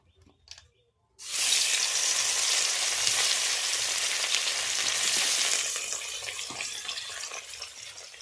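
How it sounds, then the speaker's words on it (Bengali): Pieces of rohu fish frying in hot oil give a loud, steady, close sizzle that bursts in suddenly after a quiet moment, then eases slightly toward the end, with no one talking. "মাছগুলো লাল লাল করে ভেজে নিয়েছি, এবারে আমি তুলে নেব আর বাকি মাছগুলো ভেজে নেব।"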